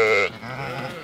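A single sheep gives a short, loud, close bleat during a transhumance drive in Oltenia, then fades into quieter flock murmur and background noise.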